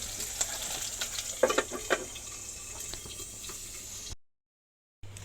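Nigella seeds temper in hot oil in a home kitchen after frying fish, giving a faint steady crackling sizzle with a few brighter pops, close by, with a brief dropout near the end.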